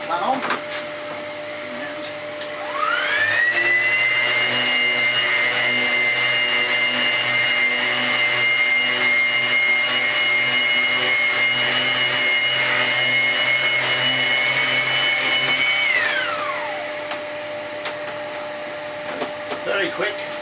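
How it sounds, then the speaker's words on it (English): A buffing machine polishing a lacquer finish spins up into a steady, loud whine that holds evenly for about thirteen seconds, then winds down, with quieter handling noise before and after. "Very quick buffing off there, just to get rid of that off there."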